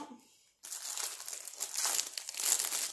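A diamond painting mystery box, a 40 by 30 kit, is unwrapped: after a brief hush, steady close crinkling and crumpling of packaging runs on loudly to the end, with sharp rustles.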